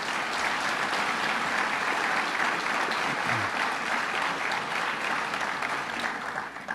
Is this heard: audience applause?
yes